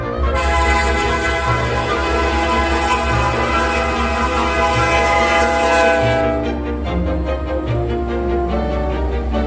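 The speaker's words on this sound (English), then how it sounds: "The first train that I caught was CN M343-91 with an SD75 IACC leading and a BC Rail-9 trailing last." A CN freight train led by an SD75 locomotive, with a BC Rail unit trailing, sounds a loud sustained multi-tone horn for about six seconds, then the horn fades into the steady rumble and rail clatter of the passing cars.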